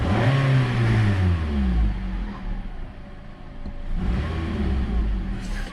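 Idling engine of a 2008 Nissan Rogue with a cylinder 1 misfire, a close, uneven rumbling idle that sags and rises again with faint roughness.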